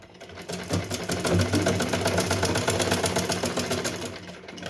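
Sewing machine stitching a small dress for a Laddu Gopal idol, a continuous close whirring run of rapid stitches lasting a few seconds, with no speech.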